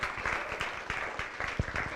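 Audience at a zero waste summit breaks into sustained applause, a dense, steady wash of many hands clapping in a large room, with no talking over it.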